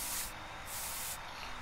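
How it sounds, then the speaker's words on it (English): Heal spray used in the Friday the 13th video game, two short pressurized aerosol hisses in quick succession, loud and close with no talk over them. "Oh shit, I didn't know I could still use a heal spray."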